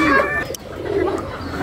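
Racing homer pigeons cooing from a loft, a few soft, warbling calls close by with a low rumbling background.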